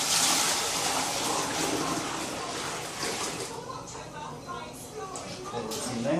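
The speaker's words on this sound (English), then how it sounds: "All I'm going to do is pour it from one vessel to the other, which will aerate it quite nicely as well." Dark home-brewed beer wort being poured from one vessel into another to aerate it, giving a steady splashing gush of liquid throughout, with someone speaking over the pour.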